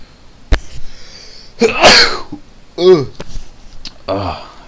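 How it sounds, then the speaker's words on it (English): A sharp sneeze bursts out amid speech, with a couple of quick breathy bursts following; people talk around it. "I think I'm gonna sneeze."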